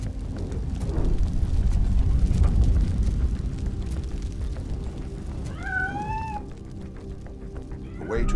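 A cat in the RoboCop video game gives a short rising meow partway through, following a stretch of rumbling game ambience, with a sharp thud right at the end.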